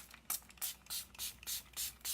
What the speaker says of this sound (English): I'm going to spray it all over